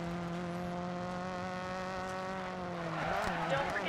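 A steady droning race car engine in the video game Dirt 4 hums at constant pitch, then revs and shifts near the end with a brief squeal.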